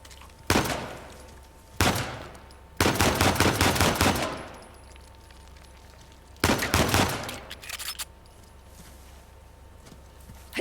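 Gunfire in Uncharted: The Lost Legacy comes in several loud bursts of rapid automatic shots with short gaps between them, followed by quieter ambience and a final single crack.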